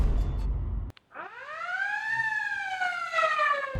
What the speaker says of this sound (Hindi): और जैसे ही आएगा तो हमारे एक सायरन लगा हुआ है